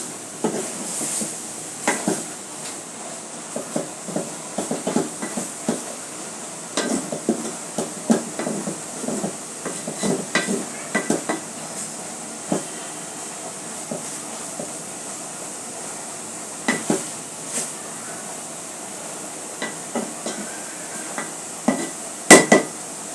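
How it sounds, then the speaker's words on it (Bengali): Taro leaves frying in a pan are stirred with a utensil, giving irregular light scraping and clinking taps spread through the stretch over a steady low sizzle, with no talk. "এখন আবার একটু ভালো করে নেড়ে ছেড়ে দেবো।"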